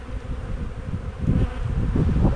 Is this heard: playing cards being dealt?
no